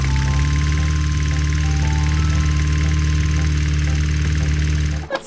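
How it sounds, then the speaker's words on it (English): A toy lawnmower at an indoor playground gives off a loud, steady mechanical engine hum with a constant low drone and a repeating chime-like tone, running unbroken before cutting off abruptly near the end. "I think we should mow the lawn."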